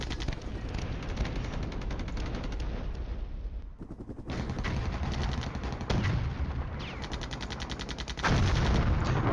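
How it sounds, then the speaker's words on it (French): Counter-battery artillery fire strikes enemy mortar positions in the Cold War wargame Flashpoint Campaigns, a dense rolling barrage of rapid booms and crackling blasts that drops briefly and then resumes louder, with no voices. "Notre artillerie en contre-batterie frappe ses mortiers."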